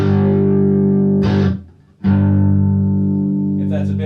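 An electric guitar plays through a Kemper Boost Pure effect, sustaining thick distorted chords that ring loudly, cut off briefly near the middle, then return and hold to the end.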